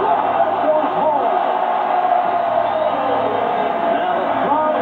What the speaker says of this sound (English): Now the crowd responds.